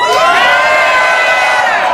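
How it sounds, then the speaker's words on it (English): A large crowd at the Robinhood summit at Grand Prix Plaza in Las Vegas cheers and whoops loudly and continuously, close and dense, with high shouts rising above the roar. "Look at that crowd."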